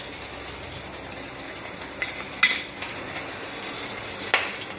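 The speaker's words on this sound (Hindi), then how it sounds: "अब इसके साथ ही मैं 3-4 करी पत्ता ऐड कर रही हूँ, और राई, वो इसमें ऐड करेंगे हम।" Curry leaves and mustard seeds sizzle in hot oil on a gas flame turned low, a steady close frying hiss broken by a couple of sharper crackling spits, with no talk.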